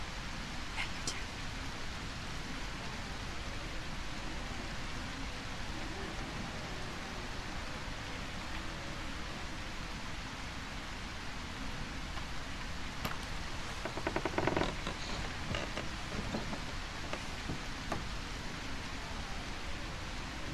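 Rain in the video game A Quiet Place pours steadily as a dense, even hiss throughout, with a few brief brighter spatters and clicks partway through and no clear speech.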